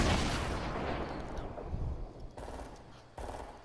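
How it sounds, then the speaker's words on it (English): Bursts of automatic gunfire in the Fortnite battle royale game, loud and dense at first, then trailing off into a quieter rattle with a couple of sharp renewed bursts near the end; no talking. "They're shooting me down."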